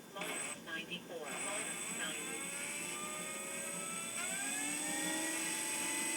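Propeller of an FMS 1400mm Pitts RC biplane spinning on its electric motor, a steady high-pitched whine and buzz held close and loud throughout, with a short burst of speech at the start.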